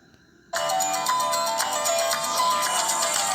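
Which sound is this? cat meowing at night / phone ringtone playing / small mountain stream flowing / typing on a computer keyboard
phone ringtone playing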